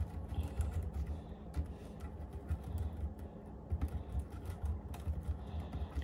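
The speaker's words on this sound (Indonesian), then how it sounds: "Kita coba ngetik." Someone types on an Asus Transformer keyboard, a close run of soft irregular key clicks and taps over a low background hum.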